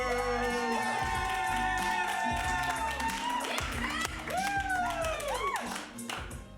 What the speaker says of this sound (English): keep that applause going as we bring out our defending champions